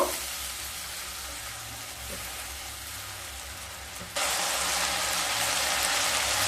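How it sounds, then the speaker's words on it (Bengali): Spices with turmeric powder and a splash of water frying in a pan give a dense, steady hiss that jumps louder partway through, close and continuous with no voices. "দিয়ে মশলাগুলোকে খুব ভালোভাবে কষিয়ে নেব।"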